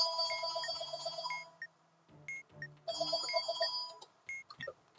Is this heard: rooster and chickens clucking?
no